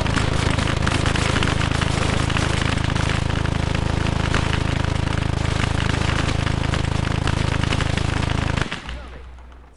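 In the Close Combat: Gates of Hell Liberation video game, a Quad 50 anti-aircraft gun fights a Panzer 2 tank, making dense, unbroken rapid machine-gun fire with crackling bursts for about nine seconds before stopping abruptly.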